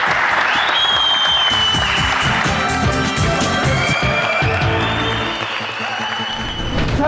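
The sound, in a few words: audience applause for the winning contestant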